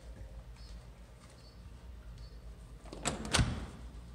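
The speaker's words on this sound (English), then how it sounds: "Open the door." An apartment door fitted with a Raspberry Pi facial-recognition lock and magnetic sensor opens with a short clunk and rattle of the latch. Quiet room noise comes before it.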